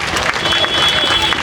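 A crowd claps steadily at a Pongal prize draw for a car at a Dharmapuri silk shop, a dense even patter of hands with a tone ringing through.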